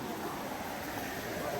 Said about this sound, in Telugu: నీళ్ళు శబ్దం.